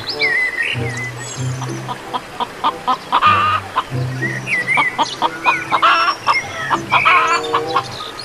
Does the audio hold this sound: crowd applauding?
no